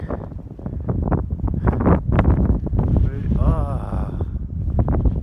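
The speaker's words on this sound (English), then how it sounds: "Suddenly there is a gust of wind." Strong winter wind in the Eastern Sierras buffets the microphone in a steady roar, with rustling and a brief whistling tone partway through, outdoors and close.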